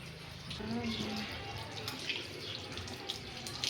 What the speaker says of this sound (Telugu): తులసి కొట్టని ముందుగా శుభ్రంగా కడుగుదామండి